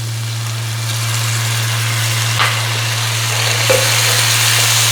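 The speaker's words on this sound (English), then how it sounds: "You see and smell and hear that sizzling?" Spicy Korean tofu sizzles in a pan after soy sauce is added, a constant close hiss over a strong low steady hum, with a couple of faint clicks.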